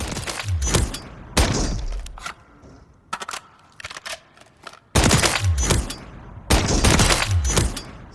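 CZ BREN rifle firing in Call of Duty Modern Warfare III, loud close bursts of rapid automatic gunfire broken by short pauses, with quieter clicks and clatter between bursts.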